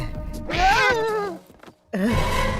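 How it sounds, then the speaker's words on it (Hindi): A black cat meows twice nearby, a long, drawn-out wavering cry followed by a shorter second call after a brief pause, loud and clear against a quiet background. "ये काली बिल्ली मुझे डरा रही है।"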